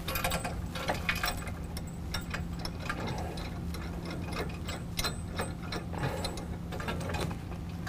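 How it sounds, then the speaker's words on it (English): A socket wrench ratchets quickly to tighten bolts on the grille guard brackets of a 2017 Ford F-250 Super Duty, with close, quiet, repeated clicking in uneven bursts. "we're going to use a 19 millimeter socket and wrench to tighten up the two bolts holding our two brackets together"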